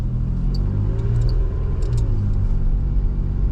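A 2005 Toyota Highlander engine accelerating on throttle, a loud, close low rumble that holds steady for a few seconds, with no talk.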